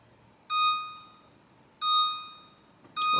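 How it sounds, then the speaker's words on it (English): A kitchen timer sounds during a batch of homemade bagels, giving three evenly spaced electronic beeps, each a bright sustained tone lasting about half a second, close and clear in a quiet room. "Timer."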